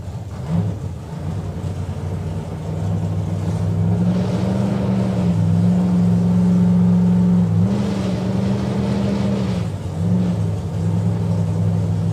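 Drag racing cars, a Camaro and a Willys, idle and creep forward into pre-stage, a loud, continuous deep engine rumble with slight rises in revs, heard at close range with no talking.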